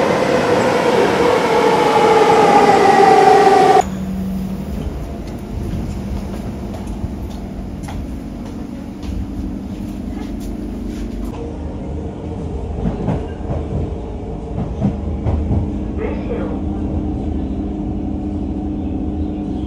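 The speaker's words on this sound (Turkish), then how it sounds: "Şimdi metroyla yine merkeze geçeceğiz." A Singapore metro train in motion, heard from inside: a bright whining roar at first, then a steady rumbling ride with rhythmic clicks and rattles of the carriage, close and continuous, with no talking.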